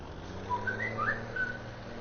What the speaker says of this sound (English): And my thing is going off, my phone.